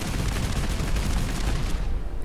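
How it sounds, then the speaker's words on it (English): A modded Gatling Gauss gun in Fallout 4 fires a rapid, dense stream of rounds, a loud, continuous rattling barrage of booming shots with no pause. "we get to shoot 10 rounds out of our mini Gauss Gatling thing here"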